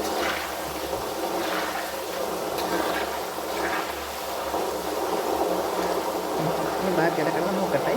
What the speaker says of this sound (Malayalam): ഞാൻ ഇതിനകത്ത് എണ്ണയ്ക്കകത്ത് ഉപ്പ് നീര് ഒഴിക്കുവാണ്.